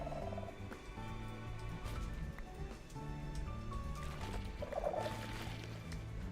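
Low, pitched-down gobbling and clucking noises from the sculk area in Minecraft repeat in short bursts over a layered game soundtrack, fairly quiet and without talk.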